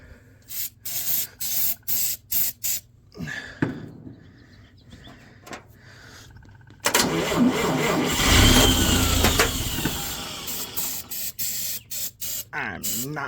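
A 1954 Chevrolet Bel Air engine cranks in bursts with no fuel yet in the pump, then catches into a loud, rough sustained run for several seconds before cutting back to intermittent cranking; a person speaks briefly in between.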